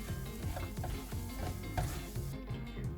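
Pistachio burfi mixture of ground pistachios and cardamom powder is stirred in a pan with soft, rhythmic scraping strokes over a low sizzle, close by and alone.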